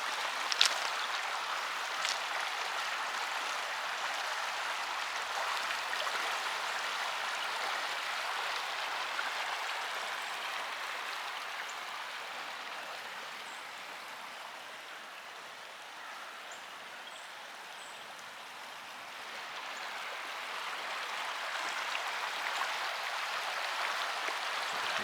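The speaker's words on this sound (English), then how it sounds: "you can just see the water cruising, flowing. Definitely getting dumped in from the Table Rock Lake Dam" Water released from the Table Rock Lake Dam rushes down the bed of Lake Taneycomo as a steady, close, continuous roar. It swells and dips slightly with no other sounds.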